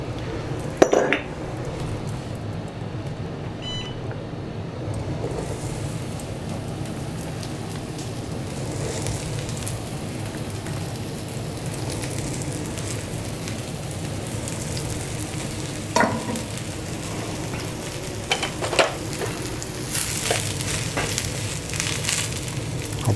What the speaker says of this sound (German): Und dann fangen wir an, unsere Champignons zu braten